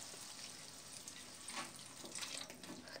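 Water is poured from a tumbler into a pan of brinjal curry, producing a continuous splashing, hissing pour with a few louder surges, fairly close and with no talk over it.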